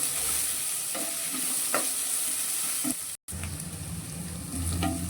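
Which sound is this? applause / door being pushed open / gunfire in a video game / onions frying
onions frying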